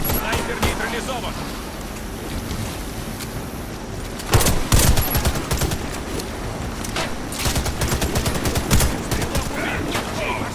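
Gunfire rattles through a Warface sniper match, with repeated sharp shots, bursts of automatic fire and whizzing bullets, loud and close, under occasional in-game voice callouts.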